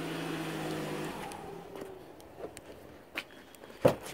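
An all-wheel-drive car fires up by remote start, a low rumbling hum settling down before a few soft clicks and knocks follow in the quiet.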